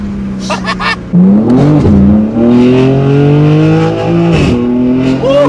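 A BMW M3 Competition engine accelerates hard from inside the cabin, its loud droning note rising in pitch through successive gear pulls with brief dips at the shifts, and no talking over it.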